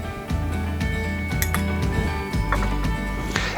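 A metal utensil stirs baking powder into all-purpose flour in a bowl, giving repeated soft clinks and scraping taps in a steady rhythm, close and fairly loud, with no talking.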